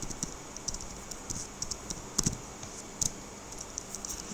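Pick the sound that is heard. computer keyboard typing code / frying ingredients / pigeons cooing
computer keyboard typing code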